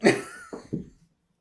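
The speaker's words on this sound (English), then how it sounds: "I gotta blow my nose." A short burst of forceful, wet nasal blowing, followed by two quicker snorting puffs, close and fairly loud, then quiet.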